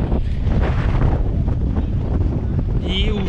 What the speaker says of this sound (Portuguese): E o vento tá fogo, galera.